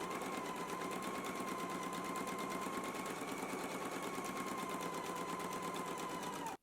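A sewing machine runs continuously, stitching a reinforcing line along a skirt seam with a rapid, even mechanical chatter and a steady hum, stopping abruptly at the end.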